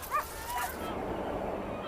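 Sled dogs yip and whimper nearby in a couple of short high cries, followed by a lower muffled background hubbub.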